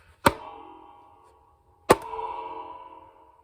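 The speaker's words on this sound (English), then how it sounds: "Sounds like a mouse trap." A spring on a cigar box guitar's spring reverb snaps twice, each sharp twang followed by a metallic, ringing reverb tail that fades over about a second, close and alone.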